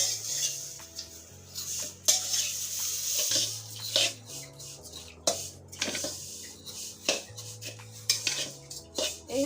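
Vermicelli (semai) being fried and stirred in a pan, with repeated metallic scrapes and clinks of a utensil against the pan in an irregular rhythm, close and moderately loud, with no talk.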